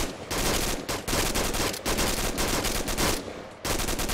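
Sustained automatic gunfire during infantry reaction-to-fire training, with loud close bursts separated by brief gaps.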